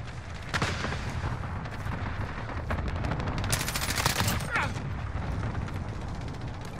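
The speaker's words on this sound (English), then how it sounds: "Cluster strike incoming." Cluster strike explosions in Call of Duty: Modern Warfare rumble as a steady, dense barrage, with sharper cracks and bursts popping through a continuous roar of battle noise at moderate volume.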